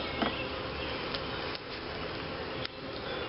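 Honey bees in a strong hive buzz steadily throughout an open hive inspection, a dense close drone with a few faint clicks and taps of equipment, and no talking.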